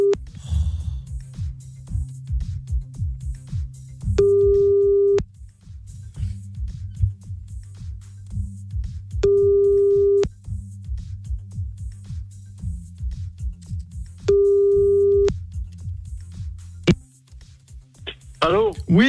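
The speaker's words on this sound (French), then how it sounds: "Allez, Tof, tu vas appeler pour annoncer la bonne nouvelle." Outgoing telephone ringback tone on a radio prank call, with three long clear electronic rings spaced evenly apart and a low hum and faint breathing or studio noise between them.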